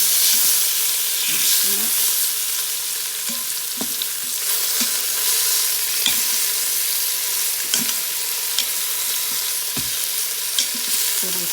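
Oxtails for a low-carb stew sizzle loudly in a pan as they are turned, a constant hiss punctuated by clacks of a utensil, with a brief spoken phrase over it.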